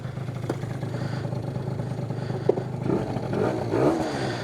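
A Stage6-tuned Yamaha BWS 70 two-stroke scooter engine running on 50:1 premix, idling with a steady buzzing drone, then revving up in short rising bursts near the end, close and fairly loud.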